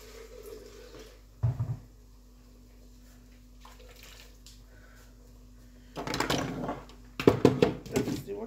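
Meat stock is poured into a pot of jollof rice in a kitchen: a short splash early on, a quiet pause, then a longer burst of pouring and sloshing liquid with clinks of the pot at the end.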